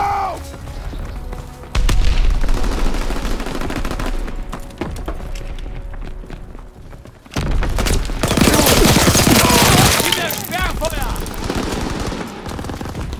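Suppressing machine gun fire rattles across a Call of Duty: WWII multiplayer trench fight in long, loud, rapid bursts separated by a brief lull. Explosions and game voices can be heard mixed in.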